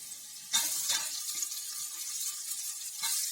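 Onions sizzling and frying in a pan with tomatoes added for a vegetable pulao, a steady close hiss broken by a few louder stirring bursts, with no talking.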